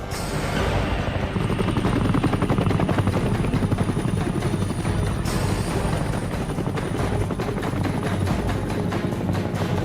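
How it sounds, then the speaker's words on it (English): U.S. helicopters hovering and flying low during a rescue of South Vietnamese troops in the Vietnam War, a loud, steady, dense rotor thudding and engine roar that fills the whole stretch with no talk. "forcing U.S. choppers to come to their rescue."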